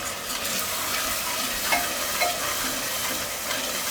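Soya chunks being stirred in a sizzling pan, a continuous frying hiss with soft scraping strokes of a spoon, close and fairly loud, no voices.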